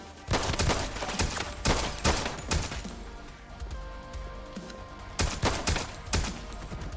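Rapid bursts of suppressed pistol fire in a shooter video game come in short clustered volleys, loud and close, with brief lulls between groups of shots.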